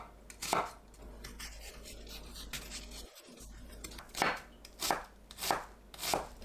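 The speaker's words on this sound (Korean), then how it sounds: "양파를 작게 썰어줍니다." Knife chopping onion into small pieces on a cutting board, a run of crisp, fairly close taps in uneven bursts, with a brief pause midway and no talk.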